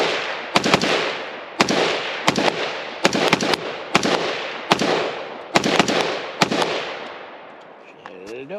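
A Colt 6320 AR-15 rifle fires about nine sharp, loud shots at an outdoor range on a New Year's trip, spaced roughly a second apart with some quick doubles, each followed by a long echoing decay before the firing stops.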